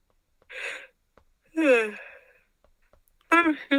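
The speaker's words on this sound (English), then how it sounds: "Sorry, I keep yawning." A person yawns several times in a quiet room during an algebra lesson: three separate drawn-out, breathy yawns with falling voiced tones, close to the listener, with short silences between them.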